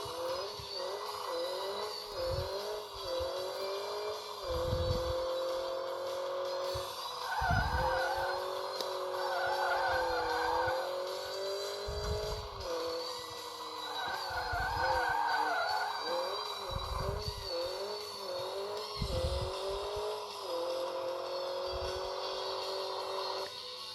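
Engine roar in a video game with repeated tire squeals and skidding bursts as a car drifts, rising and falling in pitch over a steady motor drone.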